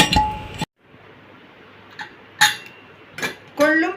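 A lid going onto a cooking pot while making horse gram rasam, with a loud metallic clatter at the start and then a few sharp clinks of metal on metal spaced across the rest of the moment.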